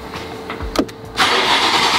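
The engine freshly installed in a wrecked BMW X3M Competition cranks briefly with a whirring starter, then catches and settles into a loud, steady idle, close by.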